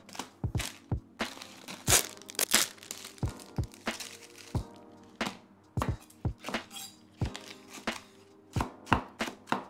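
Spring onions chopped finely on a board, a brisk series of sharp, close knife strikes in uneven bursts, with no talking.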